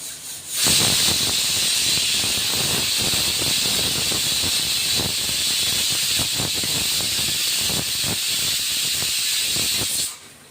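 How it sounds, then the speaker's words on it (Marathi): A pressure cooker lets out a long, loud, continuous steam whistle, a piercing hiss lasting several seconds before stopping abruptly. "कुकरच्याही शिट्ट्या होत आहेत।"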